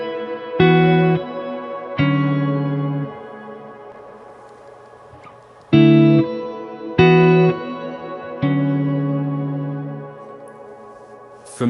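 Long, spacious shimmer reverb from a Line 6 Helix guitar processor on several plucked, sustained guitar chords, each with a clear attack and then a slowly decaying, washy tail that fills the gaps between strums.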